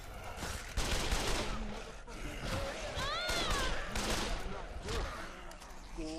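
Gunfire in the zombie game Dead Island, scattered bursts of shots cracking over several seconds, with someone talking and other game sounds mixed underneath.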